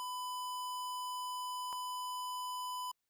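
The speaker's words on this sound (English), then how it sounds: "Here is the 1000 hertz test oscillator in a square wave." A 1000 Hz square-wave test tone from an oscillator, a steady sustained beep with strong odd harmonics lasting nearly three seconds, broken by one brief click midway and ending in a short blip before cutting off.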